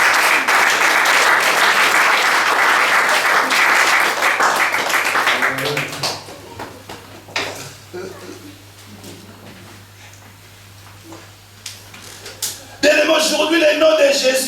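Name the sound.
congregation applauding to acclaim the Lord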